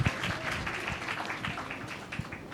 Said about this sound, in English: A huge round of applause for Satyarth Nayak and Koral Dasgupta, please.